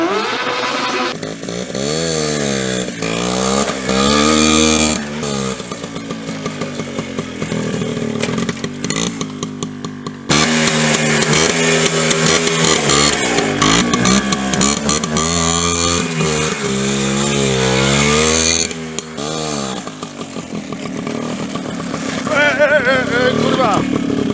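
A WSK 125 motorcycle engine revs hard again and again during stunt riding at a motor show, its pitch climbing and falling in loud, close bursts with brief drops between.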